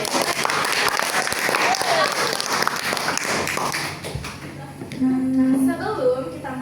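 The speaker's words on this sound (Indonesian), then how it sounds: "Wow, kita kasih tepuk tangan." Applause at an end-of-semester talk show, crowd clapping with scattered louder taps that thins out partway through as voices and a tonal sound come in over it.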